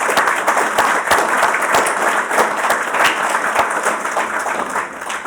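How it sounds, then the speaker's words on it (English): A room of guests at a Victorian eCommerce Network speaker event gives a warm round of applause, dense steady clapping close by, continuing evenly before easing slightly at the end. "can I get a round of applause for Mark and Catherine?"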